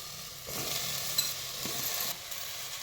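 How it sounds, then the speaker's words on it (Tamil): Brinjal fries in sesame oil in a clay pot, giving a soft, low sizzle with a few scraping stirs and light clinks, close and quiet, with no talking. "கத்திரிக்காயை நல்லா எண்ணெயில் போட்டு வதக்கி எடுத்துக்கலாம்"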